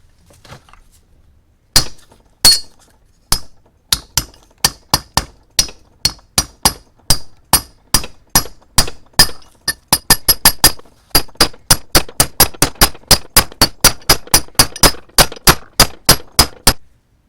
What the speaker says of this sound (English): I'm going to use this to drive that bearing in, bearing race.